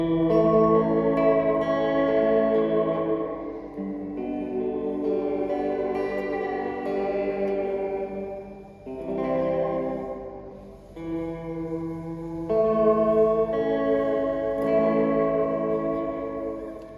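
Fender Reflecting Pool pedal set to tape echo mode with reduced fidelity, heavier tape saturation and hall reverb: sustained guitar chords and notes ring out in phrases with washy repeats and a long reverberant tail, alone with no talking.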